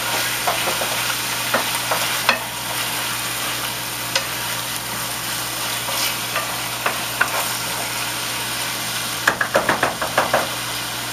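Cubed chicken fries in hot oil with a constant broad sizzle, broken by occasional stirring clatters and a quick burst of knocking taps near the end, close and fairly loud with no talk.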